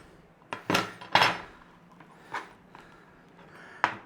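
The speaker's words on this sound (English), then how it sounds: "we're just going to give that a rough chopping" A knife roughly chops fresh coriander on a board, a handful of separate dull knocks spaced unevenly with quiet gaps between them, close up and with no talking.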